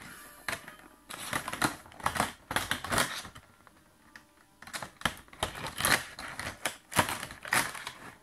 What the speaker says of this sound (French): nous allons avoir besoin d'un couteau pour le scotch